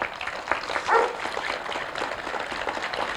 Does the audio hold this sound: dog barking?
yes